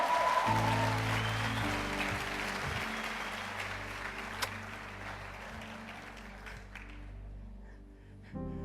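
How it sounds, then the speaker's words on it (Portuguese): A church congregation applauds steadily over a sustained keyboard accompaniment, the clapping dense at first, then thinning and fading toward the end while the music carries on. "Você pode aplaudir o Senhor, amém."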